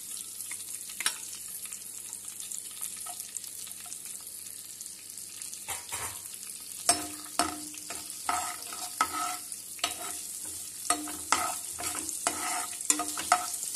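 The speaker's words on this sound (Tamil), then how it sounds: "இப்போ ஒரு பேன் அடுப்பில் வச்சு கொஞ்சமாக எண்ணெய் ஊற்றிருக்கிறேன். இதில் இப்போ இந்த பொடியாக நறுக்கினா பூண்டை போடுறேன்." Chopped garlic sizzles and fries in a little oil in a pan on the stove, a steady crackling hiss with repeated scraping stirs that grow busier in the second half; no one talks.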